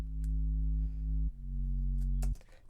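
A deep, steady synthesized sub-bass tone holds one note, drops to a slightly lower note, then cuts off abruptly; faint clicks sit above it.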